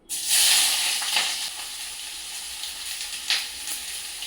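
Two sliced onions hit hot oil with a loud sizzle that settles into a steady frying crackle, with a few stirring scrapes.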